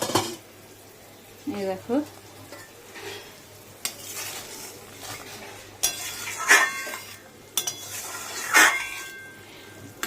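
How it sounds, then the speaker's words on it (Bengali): Water bubbles and sizzles in a pan for a tengra fish curry with beans and radish, a soft steady simmer broken by clinks of a utensil against the pan, while someone speaks briefly. "এই যে জল দিয়ে দিয়েছি, ফুটে উঠেছে"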